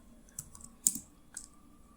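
Keys tapped on a computer keyboard while a name is entered into a trading software settings field, a few scattered clicks with one sharper press, close and fairly quiet.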